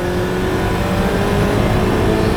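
An SSC Tuatara hypercar's engine roars continuously at high revs while accelerating, loud and steady throughout with a dense, droning tone.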